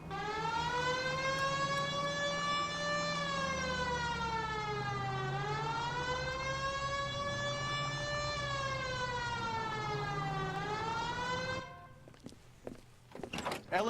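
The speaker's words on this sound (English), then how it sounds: "Hit the siren." A police car siren in the L.A. Noire video game wails in slow rising and falling sweeps, loud and close over engine rumble, then cuts off abruptly near the end, leaving scattered clicks.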